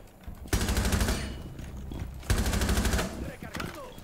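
Rapid automatic gunfire from Jäger's weapon in Rainbow Six Siege, two loud sustained bursts with a shorter one at the end, close and dominant.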